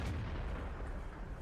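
A tank gun firing and hitting enemy armor in a tank video game, a single heavy, rumbling boom that fills the whole short moment, loud and close with no talking.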